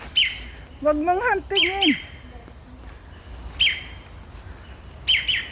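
A bird chirps in short, bright bursts, with a quick run of rising tweets and later single chirps, heard close with a brief spoken phrase in between.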